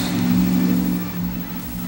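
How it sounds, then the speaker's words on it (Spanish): Cars passing on the street outside an open window, a fairly loud, steady engine rumble with no talking over it. "tengo la ventana abierta y pasan carros y se escucha muy fuerte el ruido a veces"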